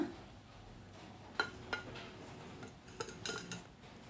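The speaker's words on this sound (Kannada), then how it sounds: "ಮಿಕ್ಸಿ ಜಾರ್ಗೆ ಹಾಕೋತಾ ಇದ್ದೀನಿ" Spice masala for a malnad-style colocasia root sambar being tipped into a mixer jar: a few sharp clinks and taps of metal on the jar around the middle and end, close and moderate over quiet kitchen background.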